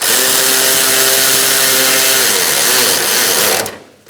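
A power tool whirs steadily while snugging a bolt on a 2002-2006 Honda CR-V during coolant reservoir replacement, loud and close, then cuts off abruptly near the end.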